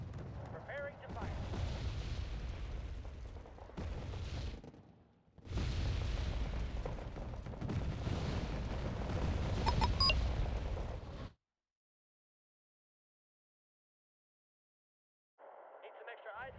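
Units firing weapons in the Wargame strategy video game make a dense, continuous roar of artillery and gunfire booms. It is loud and sustained with brief dips, then cuts to silence before a faint return.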